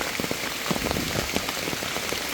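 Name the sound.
rain falling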